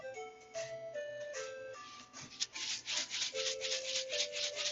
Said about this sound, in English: That sound happens because I filled him up with sand.